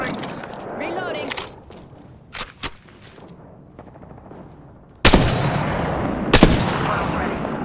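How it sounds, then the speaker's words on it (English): Gunfire in a battle royale video game: bursts of shots and sharp cracks, sparse at first and then heavier loud volleys near the end, with game sounds and voice callouts around them. "Shots fired, and they're hitting me."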